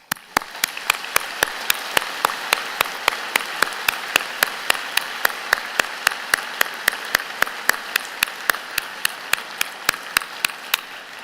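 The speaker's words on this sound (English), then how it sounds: "join me in the platform party in thanking them with a vigorous round" A small group claps at a convocation ceremony, with sharp, evenly spaced claps holding a steady rhythm from start to finish over a quiet room.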